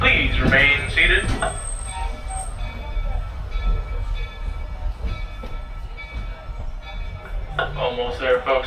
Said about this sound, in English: as we roll into the train station, please remain seated